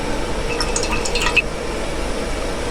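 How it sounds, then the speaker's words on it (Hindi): Cooking oil poured from a cup into a pot on the stove while making beef biryani masala: a brief, soft liquid pour with a few glugs and drips, close up and alone. "इसमें ऑयल शामिल करेंगे।"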